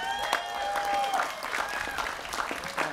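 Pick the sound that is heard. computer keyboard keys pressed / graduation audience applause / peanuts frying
graduation audience applause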